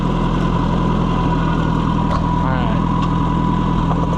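Oliver 550 tractor engine idling steadily up close, a low continuous rumble with a strong even pulse, with brief speech heard over it.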